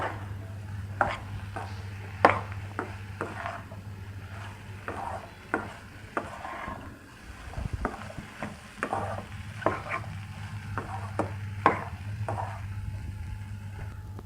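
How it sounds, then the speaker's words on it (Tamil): Egg and capsicum frying in a pan while being stirred, with repeated scraping and tapping strokes over a soft, steady sizzle and a low background hum. "முட்டை நல்லா வறுபட்டு வர வரைக்கும் கிளறிட்டே இருங்க."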